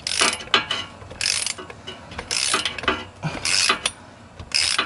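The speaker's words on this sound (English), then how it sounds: "You hear the ratcheting" A socket wrench ratchets while a hybrid racing shifter is installed in a Honda Civic. Close, crisp clicking comes in repeated bursts with short pauses between strokes, and no talk.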